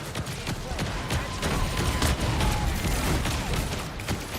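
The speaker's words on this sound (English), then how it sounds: "Why would you use that? Fireworks." Rapid crackling bursts of fireworks in a video game, dense and continuous with a low rumbling undertone, steady and moderately loud throughout.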